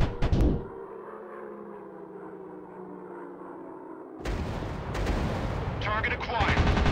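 WW2 warplane combat in a video game: a sharp burst opens, a steady aircraft-engine drone follows, then dense rapid rockets and gunfire erupt and keep rattling, with radio-style game voice lines.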